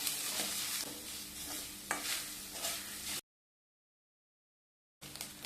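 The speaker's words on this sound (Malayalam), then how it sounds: "ഇനി നമുക്കത് ഗ്യാസ് കത്തിച്ച് നാളികേരം വറുത്തെടുക്കാം" Grated coconut sizzles and crackles in hot coconut oil in a pan on a gas stove while being stirred, a dense steady frying hiss with scraping strokes, broken by a brief silence.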